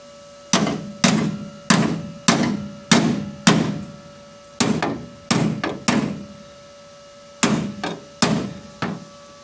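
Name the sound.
hammering sheet metal trunk corner of a 57 Chevy into shape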